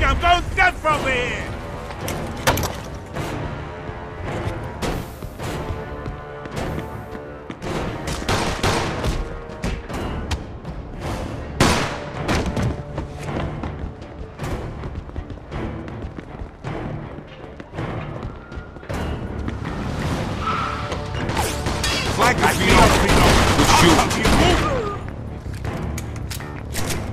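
Dense gunfire in a Mafia crime game shootout on a platform, rapid bursts of shots and sharp cracks throughout, building to heavier volleys near the end, with voices shouting over the fighting.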